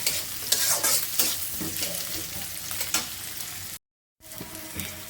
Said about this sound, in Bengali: আমি এখানে পেঁয়াজ আর কাঁচামরিচ দিয়ে দিচ্ছি আর গড়িগুলা ভেজে নিচ্ছি ভালো করে